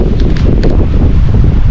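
Strong wind buffets the microphone at a campsite in Bangui, Ilocos Norte, a loud continuous rumbling roar with light rustling, no voices.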